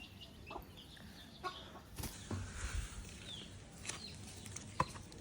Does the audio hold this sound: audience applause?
no